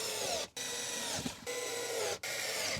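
Screws are driven in with a power driver while an Isuzu MU-X glove box is being reassembled, a faint whirring buzz in several short bursts separated by brief pauses.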